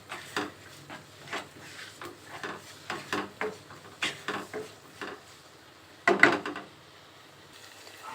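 A lid is set onto a cooking pot of spiced potato and egg curry, with a distinct clattering metallic knock near the end after a series of softer wooden scrapes and taps.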